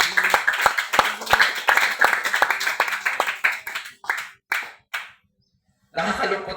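A church congregation claps in quick rhythmic unison, loud and close, slowing into a few scattered claps before stopping, then a short burst of applause resumes.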